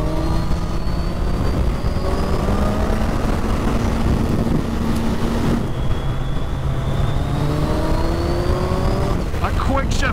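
A 2021 Suzuki Hayabusa riding at speed with its quickshifter and blipper, engine pitch rising steadily and then dropping back with each smooth gear change, loud and close over strong wind noise.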